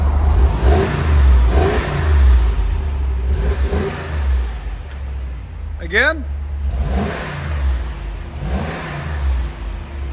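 A 2019-2026 RAM 2500 pickup with the 6.4L V8 and stock exhaust, a low, muted engine rumble rising in several short revs, fairly quiet and close, with someone briefly talking over it and a brief chirpy squeal partway through.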